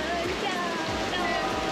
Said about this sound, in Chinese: 我们现在呢被困住了，因为整个在暴雨。